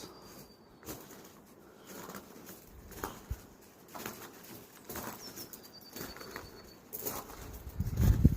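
Outdoor ambience on the Derrybawn Woodland Trail, County Wicklow, Ireland, in February, with scattered bird sounds, soft flutters and calls at a distance, over a quiet background with occasional rustling bumps.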